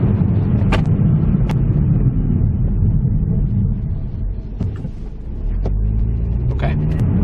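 A Ford Escape SUV accelerates toward 55 mph down a closed runway, its engine and road noise forming a loud, continuous rumble that dips briefly midway before rising again, with some light rattles and clicks inside the cabin.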